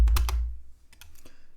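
Quick keystrokes clatter on a computer keyboard while a terminal command is typed on Ubuntu, a few sharp close clicks in a short burst followed by a couple more taps.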